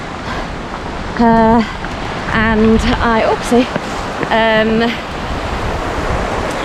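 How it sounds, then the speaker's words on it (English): Waterfalls beside a mountain trail during a June ultra-distance race give a constant rushing wash of water noise, with a person speaking over it in short phrases. "Look at the waterfalls."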